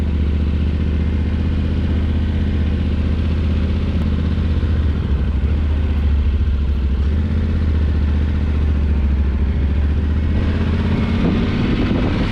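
A brand-new 2022 Yamaha Tenere 700 ridden gently during break-in on new tires, its engine giving a steady, close, continuous drone with road noise and no speech.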